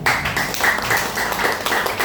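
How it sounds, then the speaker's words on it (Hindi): Audience applause at a Hindi-language DXN seminar, a dense, steady wash of many hands clapping together that stays loud and even from start to end. "दो दीजिए इनके लिए ताली।"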